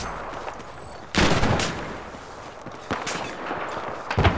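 Gunfire in a hardcore match of Battlefield 4 on PS4 comes as sharp rapid bursts, with one loud volley and then a second cluster of cracks over a constant noisy battlefield backdrop.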